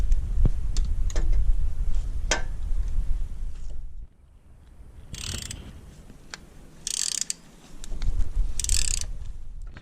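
Socket ratchet on a U-joint loosening 12mm battery cable nuts on a Honda Odyssey, with ticking ratchet clicks and later several short, bright ratcheting bursts, close with no talking.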